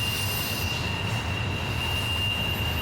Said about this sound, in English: this intermodal train continues to wind around Horseshoe Curve